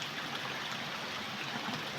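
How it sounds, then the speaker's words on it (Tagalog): Rain falls steadily beside a river, a soft, even hiss of drops blending with the rushing flow of the water, continuous and moderately quiet with no voices. "Kaya lang talagang masama ang panahon, umuulan."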